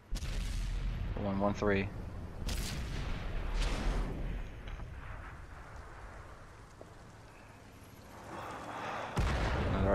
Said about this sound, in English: Another artillery shell into the I-7.